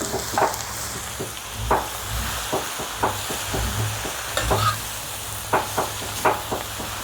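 Phak Khan Chong vegetables are stir-fried in a pan, with a steady sizzle under repeated sharp scraping and tossing strokes at an uneven rhythm, close and clear with no talk.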